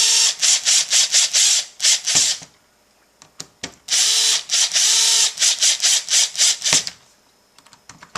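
Power driver whirring in repeated short bursts while driving screws into an Andis hair clipper during repair, loud and close, with brief pauses and small clicks between runs.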